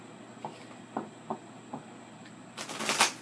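A few soft tarot card taps and slides lead into a brief, crisp riffle shuffle at the end, close and fairly quiet.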